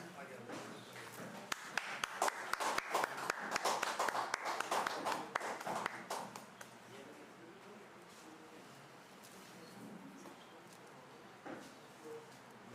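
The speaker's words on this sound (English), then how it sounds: "Round of applause, please." Scattered applause from a modest audience at an annual seminar on security threats, a few seconds of uneven clapping that thins out and fades into quiet room noise.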